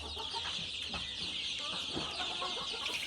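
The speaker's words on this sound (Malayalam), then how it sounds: "ഇതാണ് നമ്മുടെ കരിങ്കോയി കുഞ്ഞുങ്ങൾ" A crowd of black chicken (Karinkozhi) chicks cheeps and clucks continuously, a dense high chorus of peeps close by with no pauses.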